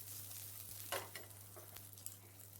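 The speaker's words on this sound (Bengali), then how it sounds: "কেটে এগুলো আমি একটু ভেজে নিচ্ছি।" Capsicum, onion and tomato fry in a pan with a soft, steady sizzle, broken by a few light scrapes of stirring, faint and close with a low hum underneath.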